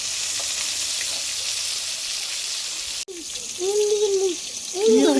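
Rohu fish fries in hot oil with a dense, even sizzle for about three seconds, then the sound cuts and the frying continues more quietly while voices come in over it.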